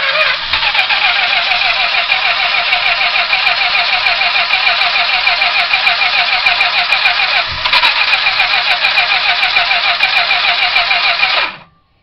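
A 1973 Plymouth Fury's engine cranks and catches after fuel is poured down the carburetor, then runs loud and close with a steady rough roar for about eleven seconds before cutting off abruptly.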